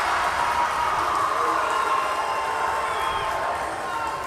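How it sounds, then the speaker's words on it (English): High school volleyball crowd roaring steadily in a gym after a point, a dense wash of cheering that holds throughout, with an announcer talking over it. "this Homer Hanna High School crowd erupts as we take a look at the replay there"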